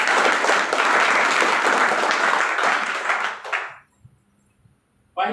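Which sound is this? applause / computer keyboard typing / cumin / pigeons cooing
applause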